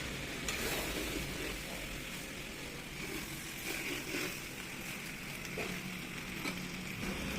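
Steady sizzling and crackling of rice frying in a clay pot over a wood-fired stove, with occasional stirring scrapes, continuous and moderately loud with no talking.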